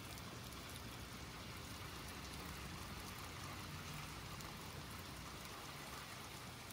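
In Little Nightmares 2, rain falls in a continuous soft wash of droplets with a faint watery rush beneath, even and unbroken from start to finish, with nobody speaking.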